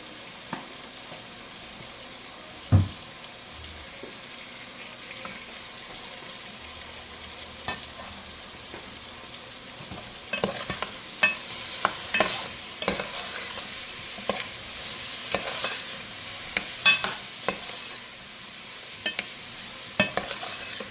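Garlic, about a tablespoon, sautés in a pan ahead of okra, giving a soft continuous sizzle punctuated by sharp utensil clinks and scrapes that turn busier and more frequent toward the end.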